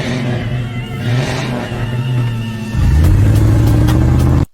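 A car engine revs up and holds a loud, steady roar near the end, rising sharply after a lower, rougher idle.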